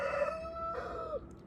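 A backyard rooster gives one clear, sustained crow near a hen house, loud and close, ending with a drawn-out final note.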